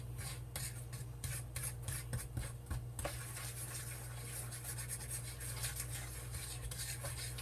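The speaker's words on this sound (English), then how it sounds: "you just kind of start stirring your batter" Blueberry cobbler batter being stirred as flour is gradually worked into milk, a steady scraping and rubbing of a utensil in a bowl over a low constant hum.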